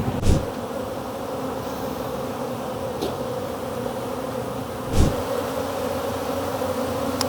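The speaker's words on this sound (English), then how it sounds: "Oh, there goes 2 bees." Honey bees buzz steadily around a beehive, a close, even drone with two brief louder swells as single bees pass near at the start and again a few seconds later.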